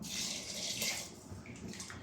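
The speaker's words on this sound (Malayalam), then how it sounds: "ആ പുളിവെള്ളം ഇതിലേക്ക് ഒഴിക്കുക" Tamarind water pouring into a pressure cooker, a soft close splashing stream that fades into quieter trickling, with no speech.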